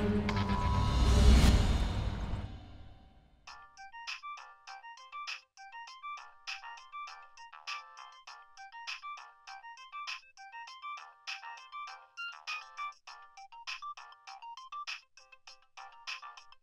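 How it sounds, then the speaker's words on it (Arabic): A mobile phone ringtone rings at a steady pace with a repeating electronic melody, clear and fairly loud, after a brief louder whooshing burst at the start. "يلا هديل افتحي الموبايل وردي، خلصيني ردي."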